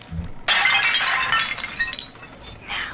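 A porcelain tea service in the style of Louis XV shatters in BioShock 2, a sudden loud crash of breaking china followed by a long bright tinkle of scattering shards that fades, with a smaller clink near the end.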